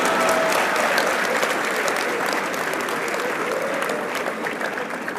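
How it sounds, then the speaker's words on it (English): Sustained applause from a conference audience at a leadership event, steady dense clapping at full volume throughout, easing only slightly toward the end with no talk over it. "I hope the cameraman captured the claps."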